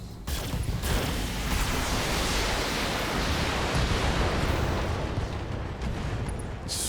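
An Atlas heavy mech fires its weapons in MechWarrior, a loud, close, sustained roaring blast that rolls on for several seconds.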